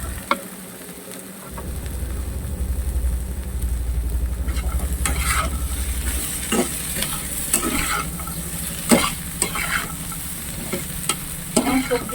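Mixed vegetables with small crabs, potato and okra stir-fried in a pan over a high gas flame, giving a steady loud sizzle with repeated sharp scraping and stirring clatters throughout.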